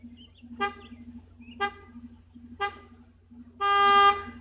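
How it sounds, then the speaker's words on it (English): A neighbor's car alarm sounds close by, giving three evenly spaced honks about a second apart and then a longer, louder blare, against a low steady hum. "Oh, sorry, alarm going off."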